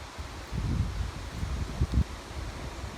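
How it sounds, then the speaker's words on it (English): Wind gusting through oak trees on a windy day, a soft broad rushing with rustling leaves, swelling in a few louder gusts and microphone buffeting, fairly steady and close. "Well, we got a windy day."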